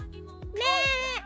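A person imitates a goat's bleat with one wavering, nasal call lasting about half a second, loud and close, after a few low thumps.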